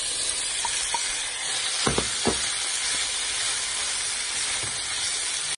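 Pork belly for Filipino adobo browns in a pan with a loud, continuous, close sizzle like a broad hiss. A few faint stirring knocks break through it.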